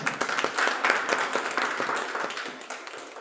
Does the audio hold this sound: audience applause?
yes